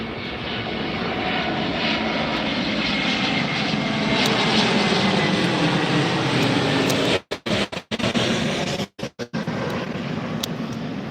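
A Frontier airliner passes at Tampa airport, a loud, sustained broadband engine roar that fills the scene and holds steady, briefly broken by short dropouts near the end.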